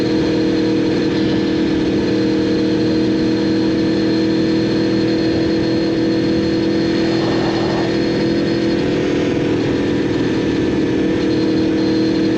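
An Aprilia motorcycle engine holds a steady, even drone at constant throttle, loud and unbroken, with no talking.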